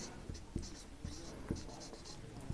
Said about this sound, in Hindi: यहाँ पे हम इस स्टेप को यहाँ पे लिख लेते हैं